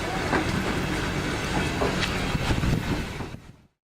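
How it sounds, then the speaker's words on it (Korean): Train rolling toward Ulaanbaatar, a steady loud rumble of wheels on rails with rhythmic clatter throughout, cutting off abruptly near the end. "우리도 기차를 타고 울란바토르로 향하고 있었습니다."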